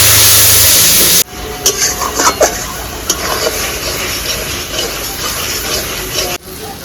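A splash of water hits a spice paste of turmeric, chilli, coriander and cumin powders frying in oil for a stingray fish curry, cutting off a loud sizzle, then steady quieter bubbling with scraping stirs and a few clinks.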